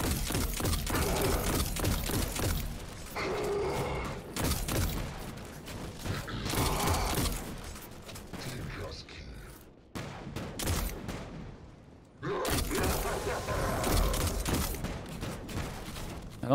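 Rapid gunfire from a Solar Scout Rifle in Destiny 2 rattles in dense repeated bursts during a Master Lost Sector fight, loud and nearly continuous, with a brief lull in the middle before the shooting resumes.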